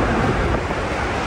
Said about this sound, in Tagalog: Hindi pa rin tumigil yung lakas ng hangin.